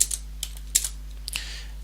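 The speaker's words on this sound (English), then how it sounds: "And now I could just type in" Computer keyboard being typed on: a handful of quick, light key clicks in an uneven rhythm, close and clear over a quiet background hum.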